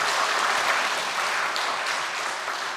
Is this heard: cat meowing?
no